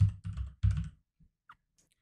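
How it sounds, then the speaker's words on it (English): A few soft, dull keyboard keystrokes in three short clustered bursts, close and quiet, followed by a couple of faint isolated clicks. "I'm going to type in subscribe"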